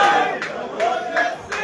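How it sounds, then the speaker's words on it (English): Fans at a match cheer and shout in loud rhythmic surges, the crowd noise swelling in repeated waves roughly every half second. "The crowd goes wild again."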